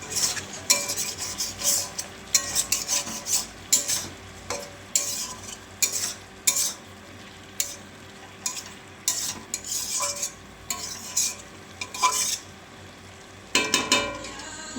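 A utensil stirs and scrapes through banana flower curry in a frying pan as sugar is mixed in, with irregular clinks and scraping bursts over a soft background sizzle.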